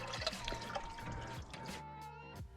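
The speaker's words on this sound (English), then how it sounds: "as you can tell from this sound, there was plenty of coolant sitting in this hose" Old coolant gushes from a disconnected radiator hose on a Plymouth into a bucket, a steady close pouring and splashing liquid flow with trickling and dripping throughout.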